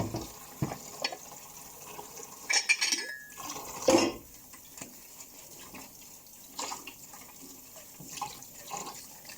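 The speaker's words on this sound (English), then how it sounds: "we can wash the glasses with running water" Glasses and dishes are washed up under a running kitchen tap, with soft water flow, clinks of glass and cutlery, and a few sharper knocks of crockery, close and fairly quiet, no voices.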